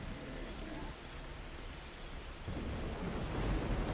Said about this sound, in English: I can hear thunder, and that's not coming from the game